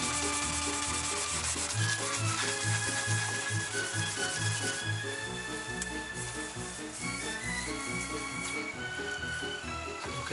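Stainless steel sink being polished with Brilleen on a boat, a steady scrubbing rub that runs continuously throughout, with background music playing underneath.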